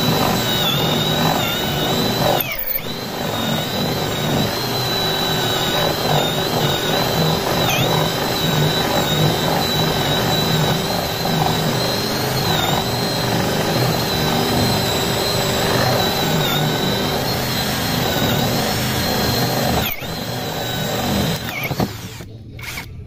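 A battery impact drill bores a 10mm hole, whining loud and steady for about twenty seconds with brief stops near the start and end.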